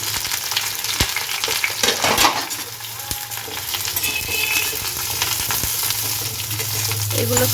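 Eggplant pieces frying in oil in a pan, a loud continuous sizzle with clinks and scrapes of a utensil stirring throughout.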